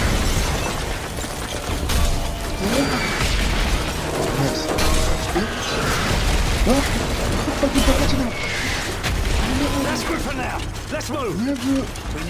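Mortar shells thump and boom amid mechanical clatter during a Call of Duty Modern Warfare 3 village battle, a dense, continuous wall of combat noise with voices speaking throughout.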